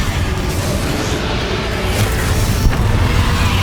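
A Confringo fire spell bursting in Hogwarts Legacy, a loud, dense booming roar that fills the whole moment with little variation, with no voices over it.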